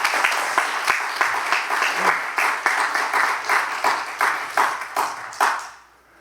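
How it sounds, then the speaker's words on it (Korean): Congregation in a church breaks into unison rhythmic clapping, steady regular beats that fade out at the end, fairly close and without speech over it. "여러분 박수 한번 하겠습니다."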